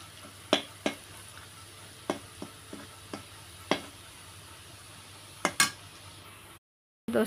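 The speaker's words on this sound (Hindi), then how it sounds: "देखिए इधर प्याज फ्राई हो गया है" Chopped onions sizzle steadily in a pan over a coal-fired stove while a utensil stirs them, giving several sharp metallic clinks and scrapes against the pan at irregular intervals.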